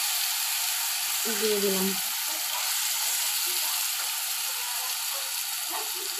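A paste of onion, ginger and garlic sizzles and fries in a pan with a steady crackling hiss, while a voice speaks briefly over it.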